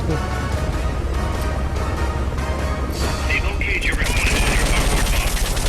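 Rapid gunfire in the video game Metal Gear Solid Peace Walker, a steady stream of loud shots with a helicopter-like drone underneath that grows denser toward the end.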